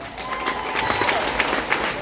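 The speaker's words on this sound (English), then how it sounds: "Y'all just like clapping." Audience applause and scattered clapping from a crowd, a steady wash of hand claps carrying through the whole stretch at moderate loudness, with no voice over it.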